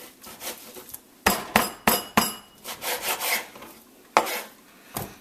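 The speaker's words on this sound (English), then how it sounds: "I'm going to cut this piece of rib in half" A knife works through a rack of pork ribs and bone, giving a series of sharp crunching snaps and rough scraping strokes, loud and close, with uneven pauses between cuts.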